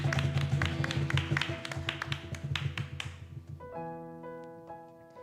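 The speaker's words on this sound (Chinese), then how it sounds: "我们一起将掌声献给我们的神" Applause from the congregation at a Wednesday church prayer meeting, dense and fairly close, with a rhythmic tapping pattern and musical tones underneath; the clapping fades out about three seconds in, leaving sustained instrumental notes.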